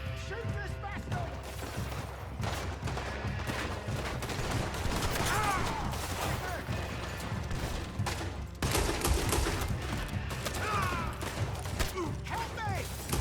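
Dense gunfire from a Western-style video game shootout, bursts and volleys crackling through a busy mix of music and effects, with voices talking over it.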